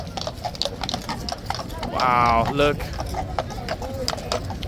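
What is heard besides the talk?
police horse hooves clip-clopping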